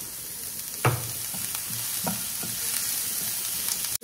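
Chopped snake gourd fries in a pan with a steady sizzle, broken by several scraping stirs of a spoon against the pan, close up with no talking.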